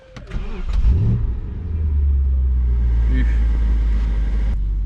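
A BMW X5 with a 4.8-litre V8 cranks and catches, swells into a revving surge, then settles into a steady, deep, close idle, with brief speech and clicks near the start.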